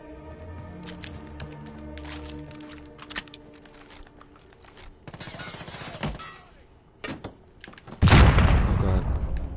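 Gunfire and grenade blasts from the Modern Warfare beta: scattered shots and clicks over a low game hum, then a loud, close explosion that lingers through the final seconds.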